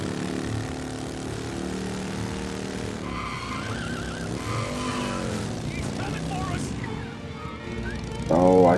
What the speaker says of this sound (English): I spun out.